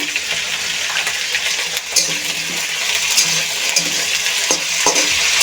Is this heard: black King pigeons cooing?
no